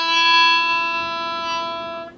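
Harmonica played through a Silverfish bullet microphone held uncupped, giving a bright, sharpish sustained chord, close and alone, fading out after about two seconds.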